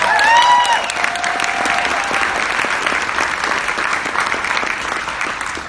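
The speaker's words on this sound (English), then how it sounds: "Big round of applause for them." Loud applause from an audience at a Democratic campaign event fills the room steadily, with a brief tonal sound at the start and faint voices mixed in.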